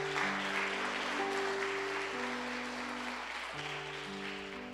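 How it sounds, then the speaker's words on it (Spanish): A church congregation applauds together in a steady, sustained wash of clapping, with held organ or keyboard chords ringing underneath and fading slightly toward the end. "De un aplauso delante del Señor en el día de hoy."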